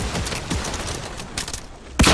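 A pump shotgun blast in Fortnite Battle Royale: distant scattered gunfire pops through the background, then one loud, close shot booms right at the end.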